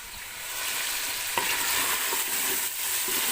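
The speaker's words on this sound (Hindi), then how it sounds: "चिकन को करेंगे अच्छे से मिक्स।" Chicken being stirred and mixed with rice in a pot gives a continuous sizzling, scraping rustle at close range, with a few soft knocks against the pot and no talking.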